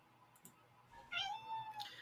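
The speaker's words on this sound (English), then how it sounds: "I don't know if you heard the cat." A domestic cat meows clearly indoors, a single drawn-out, rising-and-falling call over a faint background hum, moderately close and with no talking.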